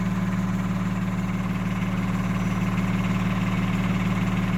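Payson Fire Department fire truck Engine 11 idling nearby, a steady, loud, low diesel rumble with an even throbbing pulse and no speech over it.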